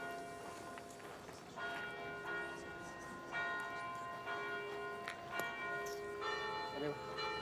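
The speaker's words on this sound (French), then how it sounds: "Ah, et toujours le carillon. Ici à Romans-sur-Isère." A church carillon in Romans-sur-Isère ringing out in repeated resonant bell strikes over a continuous background of overlapping tones, with faint voices now and then.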